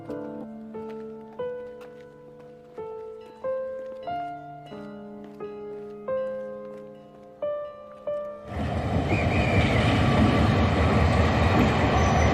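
Piano melody gives way to a loud, steady rumble of a train rolling along rails, continuous and close, with a broad noisy roar.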